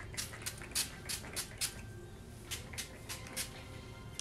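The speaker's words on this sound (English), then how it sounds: "Do a little bit more scrunching." Wave-defining hair product being scrunched into hair by hand, a series of soft, close, squishy crunches in an irregular rhythm, with no talking.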